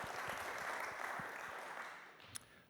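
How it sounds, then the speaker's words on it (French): Audience applause at an award ceremony for trophies, a steady dense clapping wash of a moderate crowd that holds evenly and slowly thins toward the end, with one brief sharper sound near the close. "vous pouvez applaudir"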